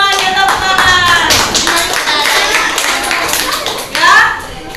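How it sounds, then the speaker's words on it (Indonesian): Sixth-grade schoolchildren clap close by in a lively burst of hand claps, mixed with children's voices calling and chattering over it, with a louder flurry near the end. "Benar semuanya, tepuk tangan."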